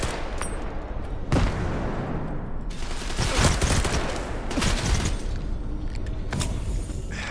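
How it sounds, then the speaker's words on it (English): Gunfire in S.T.A.L.K.E.R. 2: repeated sharp shots and rapid bursts, loud and close, some cracking right on top of each other over a dense, noisy battle backdrop. "You're shooting at me!"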